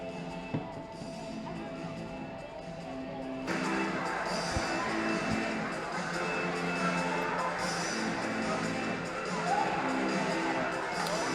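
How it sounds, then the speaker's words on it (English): Crowd noise fills a volleyball arena at a home-opener college match, a steady murmur of spectators that swells partway through, with scattered cheers and a commentator talking over it. "Good crowd here in King Arena"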